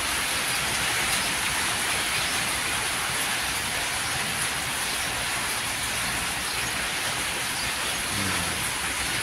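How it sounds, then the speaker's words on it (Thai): Steady early-morning rain falling continuously in Thailand, a dense even hiss of drops on surfaces with no voices. "ฝนตก"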